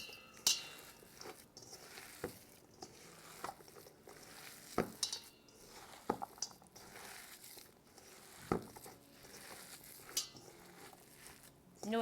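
Raw vegan loaf mixture with green onions is mixed by hand in a bowl, giving soft, wet squelching and scattered clicks and knocks at an irregular rhythm, quiet and close.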